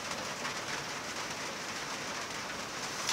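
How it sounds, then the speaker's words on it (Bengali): Heavy rain falling outside, a soft steady hiss of drops heard faintly from indoors, continuous and without speech. "বাইরে প্রচণ্ড বৃষ্টি"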